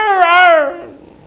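A human voice imitates a lying dog's whimper, giving a single close, drawn-out nasal whine that rises slightly and then fades within about a second.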